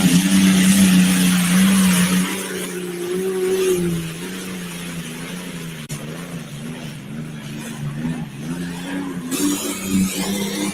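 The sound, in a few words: pulling truck with 1940s vintage Allison V12 aircraft engine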